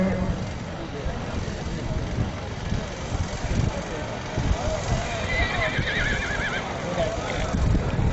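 Racehorses neighing and galloping at an all-Pakistan horse race event in 2024, with whinnies and hoof clatter running throughout against constant crowd noise and an excited commentator's voice.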